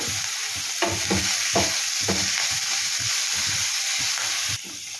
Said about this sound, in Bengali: অল্প নুন দিয়ে এটাকে একটু ভাজা ভাজা করব